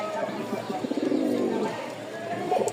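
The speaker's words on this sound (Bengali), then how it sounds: "আমি যতক্ষণ ধরে থাকবো নরের ডাকটা খালি দেখেন" A male racer pigeon gives a close, rolling coo that rises and falls over a couple of seconds, with someone talking beside it.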